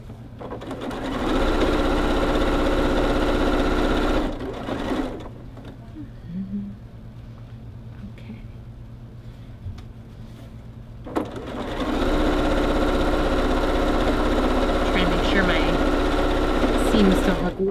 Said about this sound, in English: we're going to go ahead and sew those together